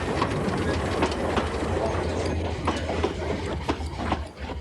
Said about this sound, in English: steam trains are alive and well in Britain, and nowhere more healthy than in Wales.